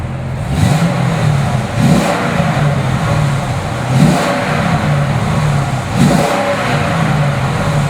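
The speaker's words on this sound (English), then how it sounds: "let's listen to what a stock exhaust sounds like" A 2007 Chevrolet Corvette Z06 on its stock exhaust revs up repeatedly, four sharp throttle blips roughly two seconds apart over a steady loud idle, close to the car with no talk.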